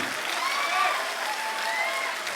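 Audience applause at a Kanpur political rally, a sustained wash of many hands clapping at moderate level with faint crowd murmur and a few tonal voices threading through.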